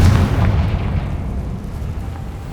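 A Confringo fire spell bursts in the video game Hogwarts Legacy, a deep, rumbling explosive boom that hits loud at the start and slowly fades over a couple of seconds, with no talk.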